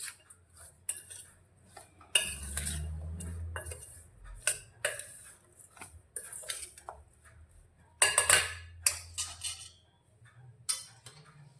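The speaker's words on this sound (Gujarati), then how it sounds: "તો હવે તેની અંદર આપણે જે ગાજર લીધા છે તે લઈ લઈશું અને તેને પણ સારી રીતે મિક્સ કરીશું." Carrots being stirred into spiced oil for carrot pickle, with a utensil scraping and clinking against a metal pot in irregular bursts, close and fairly quiet, with pauses between strokes.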